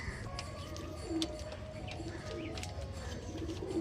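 Pigeons coo in soft, rolling, repeated calls from close by, over a steady murmur of background noise.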